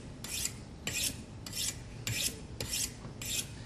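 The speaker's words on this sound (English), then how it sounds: "So this is how you sharpen. You just go back and forth." A Cutco kitchen knife is drawn back and forth across a sharpening stone, six evenly spaced gritty rasping strokes, close and quiet with no talk.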